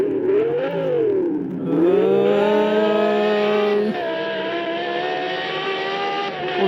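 A race car in a car racing video game revs its engine hard, a loud tonal whine that dips and climbs before settling into a sustained high drone, heard alone without speech.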